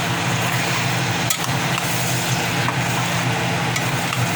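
Beef pinapaitan with hog meat being stirred together in a pot, a continuous sizzling, scraping stir with a few sharp knocks, close and loud with no talking.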